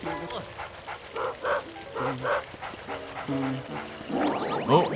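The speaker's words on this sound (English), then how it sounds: "Oh, yep, the dog's trying to attack me." Repeated short yipping barks from an attacking dog in the video game Luigi's Mansion, mixed with game effects and a voice talking throughout.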